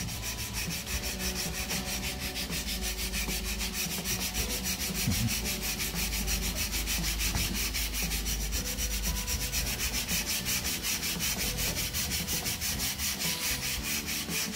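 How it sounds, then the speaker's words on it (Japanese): Sandpaper rubs back and forth over a dampened wooden floor repair in a steady, continuous scraping rhythm, close and even throughout with no talking. "水含ませた後に、ペーパーで削るとね、 その型もなくなるので"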